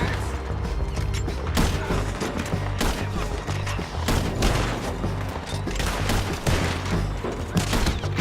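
Continuous gunfire during a Red Dead Redemption 2 video game shootout: dense, loud volleys of rapid shots and booming reports overlapping throughout, with no pauses and no clear talking.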